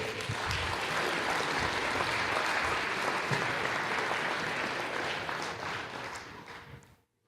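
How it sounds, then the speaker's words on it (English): Steady, dense applause fills a high school basketball gym as the crowd honors the game officials, holding loud and even before tapering off near the end. "Stand up and clap for tonight's officials."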